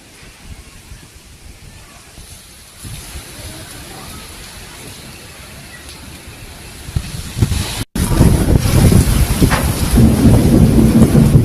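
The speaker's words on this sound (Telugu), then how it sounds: "ఒక్కసారిగా ఉరుములు మెరుపులతో కురిసిన అకాల వర్షానికి" Heavy unseasonal rain during a thunderstorm in rural Telangana, a steady roar of downpour that grows louder and denser, with low thunder rumbling in the background.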